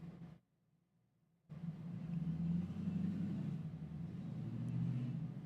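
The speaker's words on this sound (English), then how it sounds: "Can you guys hear that motorcycle outside?" A motorcycle passing outside an open window, a low rumbling engine heard from indoors that swells and lingers at moderate distance after a short stretch of near silence.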